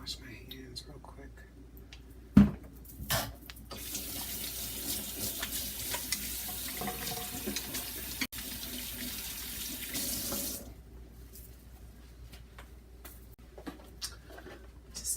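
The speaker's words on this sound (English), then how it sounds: "let me just wash my hands real quick" A kitchen sink tap runs while someone washes their hands after handling raw chicken. The water gushes steadily for about seven seconds with a few clacks before and after, and a quiet voice is heard faintly.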